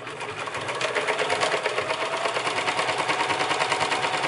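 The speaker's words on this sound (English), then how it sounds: "We're going to sew the belt." A sewing machine runs steadily for a few seconds, stitching a custom curved belt, its rapid needle clatter close and continuous with no talking.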